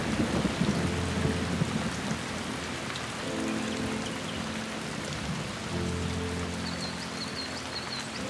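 Steady rainfall patters on leaves and surfaces in a forest where koalas live, with deep rolling thunder rumbling through, continuous and fairly loud with no voices.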